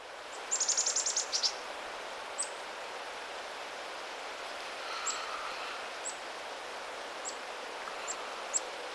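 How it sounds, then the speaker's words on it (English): Two black-capped chickadees give thin, high sip calls in a fall woodland, a rapid cluster of faint notes at first and then scattered single calls, distant and soft over a steady hiss of outdoor ambience. "a series of timid sip-sip calls from two black-capped chickadees"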